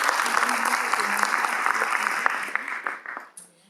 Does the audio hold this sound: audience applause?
yes